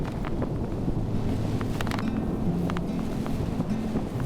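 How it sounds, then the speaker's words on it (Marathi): Steady, roaring morning wind on top of Kavnai Fort, a hill fort, buffets the microphone throughout, a continuous broadband rush with gusty fluctuations and no voices. "तीच भणाणणाऱ्या वाऱ्याने."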